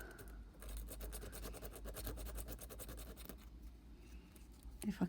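Sandpaper rubbing over a clown puppet during a spooky repaint, a close, quiet run of rapid back-and-forth scratching strokes that continues for several seconds before easing off, with no one talking.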